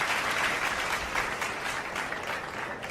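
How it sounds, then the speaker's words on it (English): A round of applause during a live Dodgers vs Rockies baseball broadcast at Coors Field, a dense steady wash of clapping from a crowd that carries evenly across the whole stretch. "Give them a round of applause."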